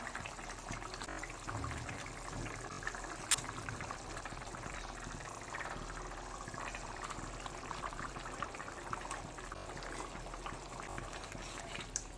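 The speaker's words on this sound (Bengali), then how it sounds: "দেখুন ঝোলটা ফুটে গেছে।" Fish curry gravy for a Bengali fasha fish jhal bubbles at a steady boil in a pot, a faint continuous simmering burble with small pops and no talking.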